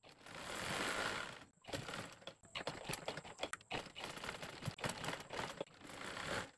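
Sewing machine stitching a panjabi sleeve, with a steady whirring run that breaks off into a series of rapid mechanical clatters and stops, close and fairly loud.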